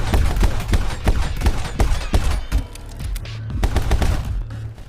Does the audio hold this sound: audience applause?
no